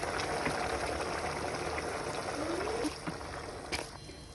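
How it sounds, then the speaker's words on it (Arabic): Four cups of boiling water poured onto chicken cooking in a pot, a continuous hissing, bubbling rush that eases and sputters toward the end, close and without talk. "بعد كده حبايبي هنضيف 4 كوبايات مية مغلية"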